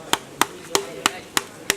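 Six evenly spaced, sharp knocks on a tree trunk that sounds hollow, close and crisp with brief decays and a faint outdoor background.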